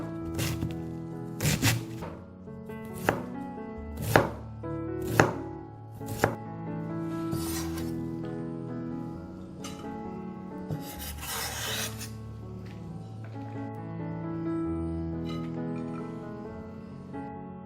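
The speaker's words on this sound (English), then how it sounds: "We are now going to chop up this cabbage." A knife chops cabbage on a board, several crisp rhythmic thuds at first, then quieter scraping and rustling as the shreds are gathered.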